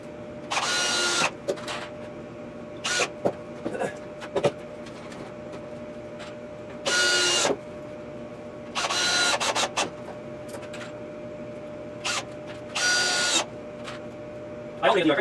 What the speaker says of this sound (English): I'm going to put screws in here along this thing